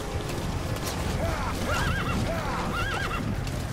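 A horse in Metal Gear Solid V gives two loud, wavering whinnies close by over a busy rumble of hooves and game sound, with a voice talking faintly beneath.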